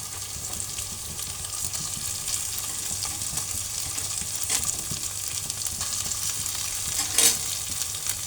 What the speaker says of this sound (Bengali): এই যে লাল লাল হয়ে আসছে রসুন, পেঁয়াজ, শুকনা মরিচ, এখন আমি দিয়ে দেব কপিটা